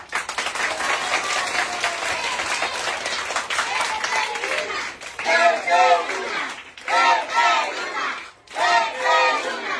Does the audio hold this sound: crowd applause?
yes